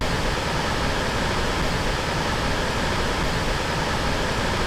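A field recording of Shoshone Falls waterfall gives a steady, dense roar like static hiss that stays at an even level throughout, with no voices.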